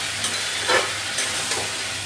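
Poppy-seed dish of potato and ridge gourd in a pan, stirred now and then with a spatula: a soft, continuous sizzle broken by a few brief scraping strokes.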